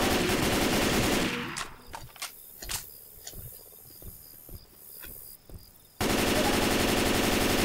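Gunfire in Left 4 Dead 2 during a firefight: a string of sharp, irregular shots rings out over a steady buzzing, insect-like game ambience that swells loud at the start and end.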